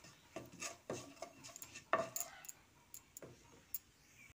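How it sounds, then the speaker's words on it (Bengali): A spoon stirs tempering spices (cardamom, cinnamon, cumin seeds and asafoetida) in a pan, giving quiet irregular scrapes and clinks of metal, with one sharper knock, close and alone. "তারপর ফোড়নটা একটু নাড়াচাড়া করে দিচ্ছি।"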